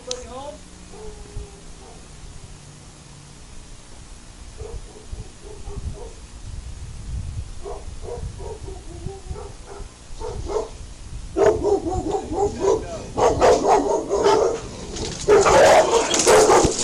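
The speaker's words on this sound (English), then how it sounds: "Dog, dog, get the dog! Get the dog!" A dog barks repeatedly during a police confrontation, in short bursts that grow louder and more frantic toward the end, with people talking and shouting over it.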